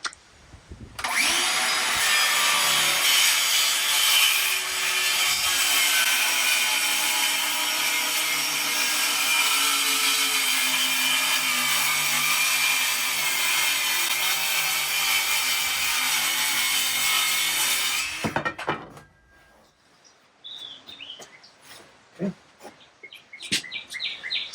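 A hand saw free-cuts butcher block wood in a long, continuous, loud rasping stroke for most of the stretch, then stops, followed by quieter knocks and handling sounds.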